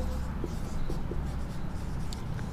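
Pen writing a name on paper for a signature, scratching softly and steadily with a few small tapping strokes, close up over a steady low background hum.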